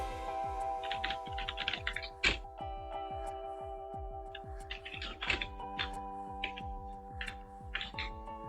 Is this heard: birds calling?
no